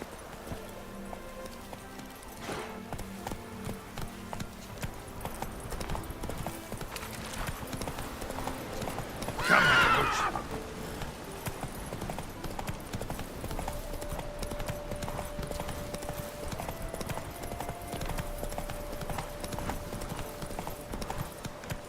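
Roach the horse in The Witcher 3 game, hooves clip-clopping steadily and close, with a louder burst near the middle that may be a neigh, over a faint game music backdrop.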